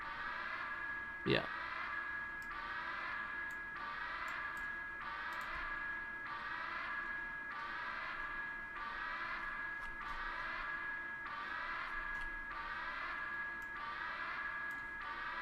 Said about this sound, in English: I think this is another alarm